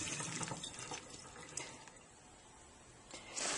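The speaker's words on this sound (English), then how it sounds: "put the number of chestnuts you want into a colander and give them a good rinse" Water runs over chestnuts in a colander, a steady splashing, trickling rinse with soft dripping and rattling, fairly quiet and close with no talk.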